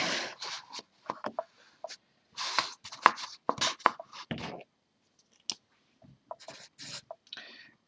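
Chalk or marker scratches across a board in short bursts while math is written out, scattered strokes and taps with brief pauses between them, close and fairly crisp.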